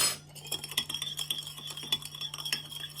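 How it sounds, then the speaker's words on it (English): Metal utensil stirring a homemade salad dressing of oil and a little salt in a bowl, with quick rhythmic clinks and scrapes against the sides, close and fairly quiet, under a low steady hum. "And then we stir it up."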